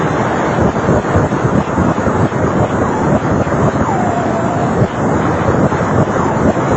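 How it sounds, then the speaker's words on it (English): Black hole X-ray data turned into sound produces a dense, roaring, wind-like wash with a faint gliding tone partway through, loud and unbroken throughout. "here is a sound of an actual black hole"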